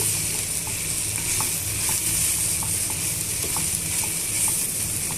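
Okra chutney ingredients with asafoetida fry and sizzle steadily in a pan, with occasional light stirring clicks, close and fairly loud, no voices.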